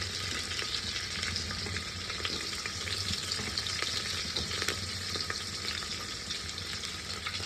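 Garlic and onion sizzle steadily in hot oil for sambar, with a constant close frying hiss and faint scraping as the pan is stirred, and no voices.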